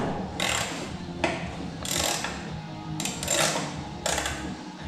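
A socket wrench ratchets on a bolt while a race car engine is being changed, in about five quick bursts of close, crisp clicking separated by short pauses.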